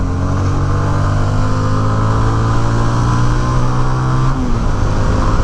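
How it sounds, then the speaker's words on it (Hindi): A motorcycle engine drones steadily and loudly throughout, its pitch holding constant with a slight shift near the end, cruising at higher speed. "अब मैं बाइक को थोड़ी सी तेज चलाता"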